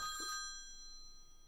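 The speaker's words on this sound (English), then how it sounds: "Is that phone ringing in my f***ing real life or?" A telephone rings inside a horror video game set in a neighbour's apartment, with a bright electronic bell tone that sounds once near the start, then decays and fades into a faint, steady ring. No one speaks.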